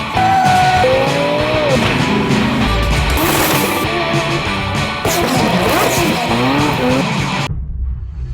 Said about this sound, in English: we're gonna give him a ride in the Aston Martin Valkyrie Spider